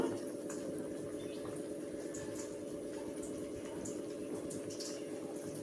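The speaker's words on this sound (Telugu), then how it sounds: "చూడండి, పులుసు ఇట్లాగా బాగా మరుగుతుంది కదా" Fish curry broth simmering at a steady boil in a pot, giving a continuous close bubbling and hissing with light drips and pops and no talk.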